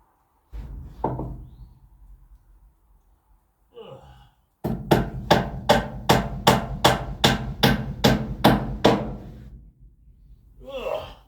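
A hammer strikes a floor or ceiling in a fast, even run of about a dozen sharp, loud blows, preceded by a few scattered knocks and breathy sighs and gasps.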